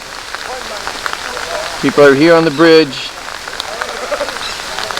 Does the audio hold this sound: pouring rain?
yes